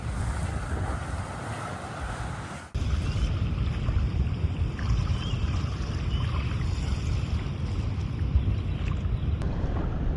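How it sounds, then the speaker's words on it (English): Small outboard motor on a shallow, cold river in Karamea, New Zealand, running steadily as a loud continuous drone, heavy with wind buffeting the microphone, with the engine note picking up sharply a few seconds in. "Motor seems to be working fine."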